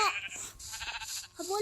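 Video game goat bleating in short wavering cries at the start and end of a brief moment, with people talking over it.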